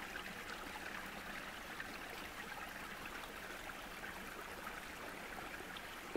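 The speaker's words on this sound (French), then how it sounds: "un joli petit ruisseau qui coule." A small stream trickles and babbles steadily, a continuous soft rush of flowing water with no voices.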